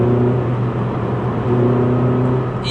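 A Ford Fiesta ST engine fitted with a performance torque mount pulls under acceleration, a loud, steady, close-up hum and drone heard from inside the car with no talking.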